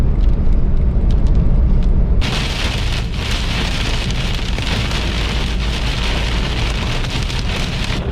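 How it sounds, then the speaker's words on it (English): Heavy rain pelts down on a vehicle during a road trip, a dense steady hiss that swells sharply louder about two seconds in and stays loud, with no talking. "And here comes the rain."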